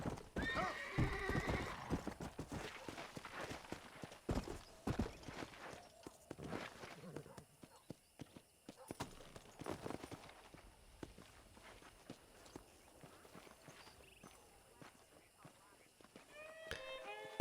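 Horse hooves clip-clopping in the Red Dead Redemption video game, irregular hoofbeats with snorts and a whinny, moderately loud, with speech over parts of the clip.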